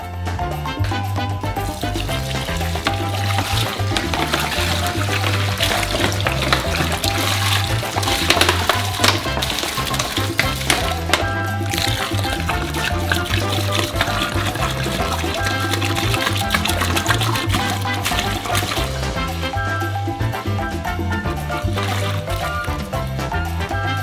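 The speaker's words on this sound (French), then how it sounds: "Pour faciliter le mélange, on verse d'abord la moitié de l'eau." Water pours steadily into a large bowl for a giant Snickers ice cream, a continuous splashing, gurgling stream that holds even and loud for the whole stretch, with no pauses and no talking.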